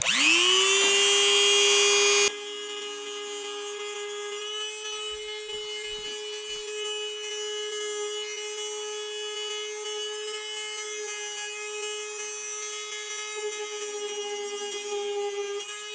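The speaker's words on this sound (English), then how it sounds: "I'm just gonna use the Dremel again and use these sanders to smoothen out those edges" Dremel rotary tool with a sanding drum smoothing the cut edges of vent openings on a C6 Corvette hood and fenders, a steady high-pitched whine that spins up at the start and then holds, close and loud.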